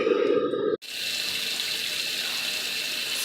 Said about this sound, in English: We have good water flow.